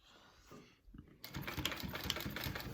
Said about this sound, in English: you're doing a smaller stitch length because this is your final stitch